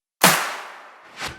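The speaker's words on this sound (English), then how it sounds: "Layer your snares with acoustic claps for a unique, sharp sound." A layered snare and acoustic clap drum sample for EDM and future bass hits once, sharp and bright with a noisy tail, then a second fainter clap-like burst follows about a second later.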